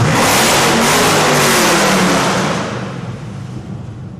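Car engine at a muffler shop revving hard through a newly fitted exhaust, a loud roaring burst that holds steady and then eases off toward the end.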